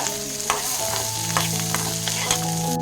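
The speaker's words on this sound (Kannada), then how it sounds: "ಒಂದು ಸ್ವಲ್ಪ ಹಿಂಗೆ ಫ್ರೈ ಮಾಡ್ತೀವಿ. ಚೆನ್ನಾಗಿ ಫ್ರೈ ಮಾಡ್ಕೋಬೇಕು" Tomatoes and other ingredients for paddu chutney fry in a pan with a steady, close sizzle, and a utensil occasionally scrapes and stirs through them; no one speaks.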